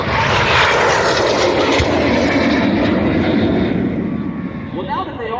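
An L-39 jet flying at the EAA daytime airshow roars loudly overhead, a broad sustained engine rush that slowly fades, while a voice speaks faintly underneath near the end.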